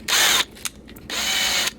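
A power drill bores a pilot hole in the turn indicator stalk of a 1968 MGC, two close, loud whirring bursts separated by a short pause with a small click.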